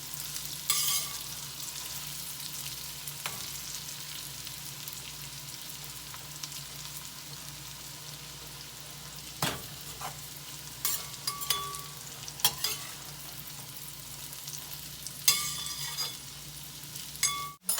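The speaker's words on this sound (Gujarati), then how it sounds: "એક બે વાર વચ્ચે આપણે હલાવીશું શાકને સરસ કે જેથી કરીને ચોંટતું નથી" Cashew and bitter gourd curry stirred in a pan while it fries, a steady low sizzle running throughout with occasional scraping clinks of the spoon against the pan, no voices.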